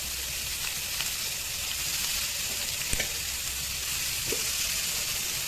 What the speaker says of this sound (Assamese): এইখিনি যে মাছ ভজা তেলখিনিতে ইয়াতে মই পিঁয়াজ দিছোঁ